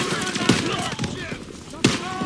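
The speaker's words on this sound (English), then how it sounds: "Artillery's hitting the beach." Artillery shells landing on the D-Day beach in Call of Duty WW2, heavy booms and rapid gunfire crackling through a dense battle din, with two sharper blasts punching through and voices shouting amid the chaos.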